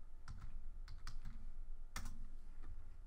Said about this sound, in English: Don't know why I can't type today.